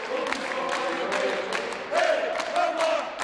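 Prisoners applaud loudly in a prison dining hall after sharing lunch with the pope. The clapping is a dense, steady roar of many hands throughout, with crowd voices mixed in.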